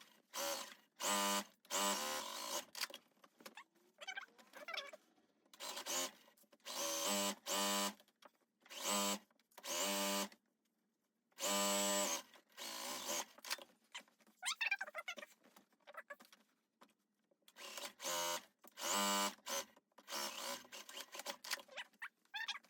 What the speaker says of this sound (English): we're gonna go ahead and sew down those compartments